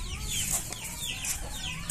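A chicken clucks and squawks in short agitated bursts as it scurries away from a manual hand sprayer, heard close and alone.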